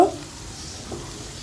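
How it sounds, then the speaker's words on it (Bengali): Onions, with a spoon of turmeric powder added, sizzling and frying in a pan for bitter gourd fry, a soft, steady crackle close by, with a brief stirring scrape near the start. "আমি পেঁয়াজটা সুন্দর করে একটু ভেজে নিব"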